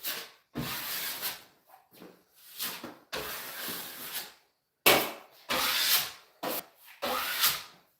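Wet joint compound being pressed and scraped over screw holes in drywall with a taping knife, a series of close, soft rubbing strokes separated by short pauses.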